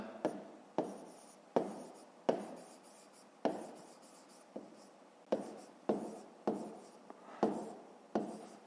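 Writing out the solution to a fifth-grade math exercise, with about a dozen crisp, evenly spaced strokes on a steady rhythm, close and fairly quiet, and no talking.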